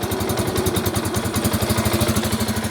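A 2022 Janus Gryffin 250 Scrambler single-cylinder motorcycle idles steadily after a cold start with the choke on, a close, even, rapid putter that holds a constant beat throughout.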